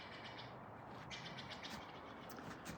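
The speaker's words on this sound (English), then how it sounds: "You just hear the birds and very peaceful back here." Faint bird chirps come and go over a soft, steady backyard background with no road noise, quiet and calm with no voices.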